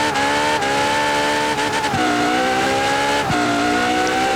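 In Forza Horizon 4, a 2013 Ferrari LaFerrari's tires squeal while struggling for grip, layered over a loud, steady, high-revving engine with brief dips at gear changes.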